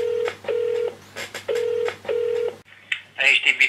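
A telephone call to a press office goes through a series of steady electronic tones on the line, broken by short gaps, before a voice answers and begins speaking.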